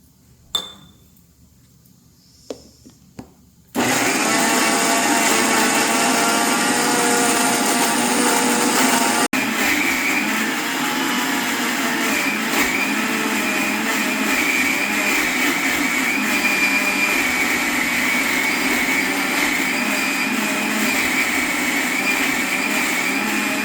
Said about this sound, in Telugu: చూసారా, మిక్సీ పట్టాక మెత్తగా ఇట్లా పట్టేసుకోండి